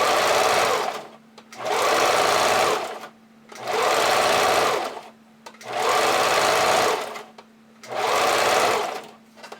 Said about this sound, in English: It's about a medium width. And I'm pulling on my elastic as I sew it on.